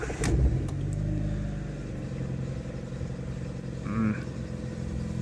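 A car engine with 119,000 miles and new tensioners cranks and catches, then runs with an uneven, slightly rough, graunchy drone and a brief whine partway through.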